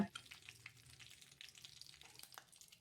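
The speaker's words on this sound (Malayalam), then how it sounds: "ഇനി ഒരു ചട്ടി അടുപ്പത്ത് വെച്ച് അതിലേക്ക് വെളിച്ചെണ്ണ ചൂടാക്കി കഴിയുമ്പോൾ കടുക് പൊട്ടിക്കുക" Mustard seeds spluttering in hot coconut oil in a pan on the stove, with faint scattered crackles and pops over a quiet sizzle.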